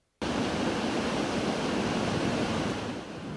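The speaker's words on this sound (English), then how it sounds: "The raging Rum River in Anoka is now a go-to spot for people who want to see the pure power and fury of nature." Raging flood water on the Rum River pours over the dam in Anoka, a sudden, dense, unbroken rushing roar that stays loud and steady.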